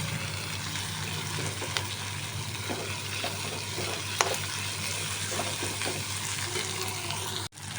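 Garlic and green chilli frying in a pan, a steady close sizzle with occasional light stirring clicks, no talking.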